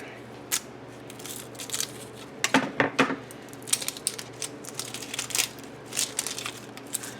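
A knife chops an onion into quarters on a board, with a few sharp, crunchy cuts and knocks spaced irregularly, close and clear over a quiet kitchen background.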